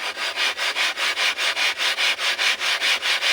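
Rhythmic back-and-forth sanding strokes, about four per second, close and steady, a gritty rasp as a metal cylinder-head surface of a Zubr 8 hp walk-behind tractor engine is ground flat on glass.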